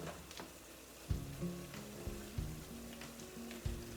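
Ground turkey with brown sugar caramelizing in a pan for a Vietnamese dish gives a soft, steady sizzle, with a few low thuds from stirring.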